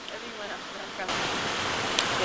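Ocean surf washing onto a Galapagos shore, a steady broadband wash that swells suddenly louder about halfway through as a wave breaks, continuing as a close, rushing roar.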